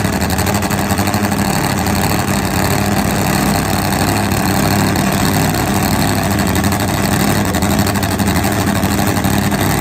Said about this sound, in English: This is Top Fuel Motorcycle.